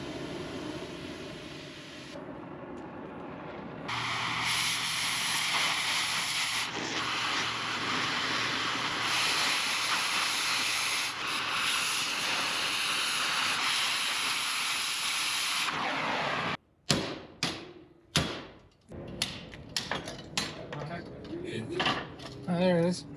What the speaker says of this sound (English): Pretty good torch. Yeah, it's a real Victor.